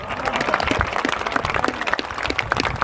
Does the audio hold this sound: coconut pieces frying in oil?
no